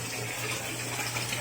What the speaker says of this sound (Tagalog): Turn off ko muna yung gripo.